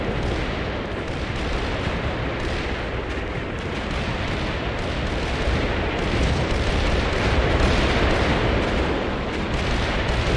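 Rocket artillery barrage in the Cold War wargame Combat Mission: Cold War, a dense continuous rumble of overlapping distant blasts that swells slightly toward the middle and keeps rolling without a break.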